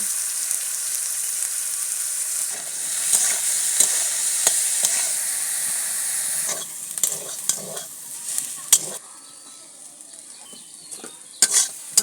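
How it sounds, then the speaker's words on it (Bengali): Potatoes and aubergine fry in a wok with a steady crackling sizzle, punctuated by repeated metal spatula scrapes and knocks against the pan, the sizzle thinning toward the end. "আমার আলু আর বেগুন ভাজা হয়ে গেছে লাল লাল করে"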